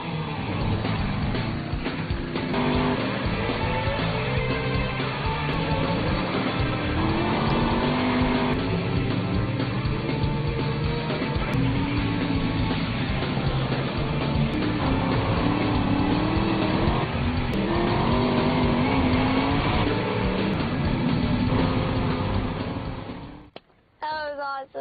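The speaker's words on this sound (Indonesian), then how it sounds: "mencoba mengendarai mobil balap yang sudah lama tidak digunakannya" A race car drives on a tacky muddy track, its engine droning loudly and continuously with shifting revs and tyre noise throughout, fading abruptly at the end.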